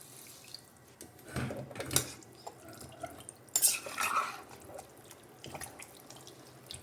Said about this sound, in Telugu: నేను కేజీకి ఒక 2 గ్లాసెస్ వాటర్ అయితే పోస్తున్నాను అనమాట ఉడకడానికి